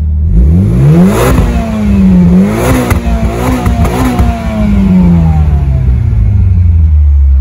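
A 2015 Mitsubishi Lancer Evolution Final Edition engine revs hard and loud up close, its pitch climbing and falling through several throttle blips as the turbo spools, then settling into a long descending note.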